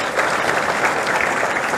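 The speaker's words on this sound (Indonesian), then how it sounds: "Tepuk untuk orang Papua" Congregation applause during a church worship service at GKI Gejayan in Yogyakarta, a brief, loud, even roar of many people clapping together.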